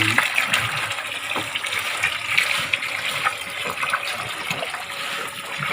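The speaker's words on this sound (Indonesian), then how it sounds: "masukkan air langsung dari keran" Water gushes steadily from a tap, splashing and trickling into a cattle trough, close and continuous with no talking.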